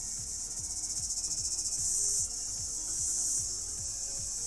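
A cicada perched at a window buzzes loudly and steadily at close range, a shrill continuous drone with a rapid pulsing rhythm that swells and holds over several seconds; no one speaks.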